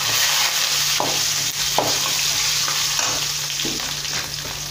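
Curry leaves and four slit green chillies frying in hot oil, a loud, dense continuous sizzle and crackle with occasional stirring clinks, close and unbroken throughout.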